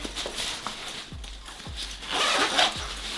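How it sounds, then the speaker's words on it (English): A roller board suitcase compartment is zipped shut for a regional jet trip. A few short zipper pulls come first, then one longer, louder zip near the end, close and clear, with no talking. "zip it up"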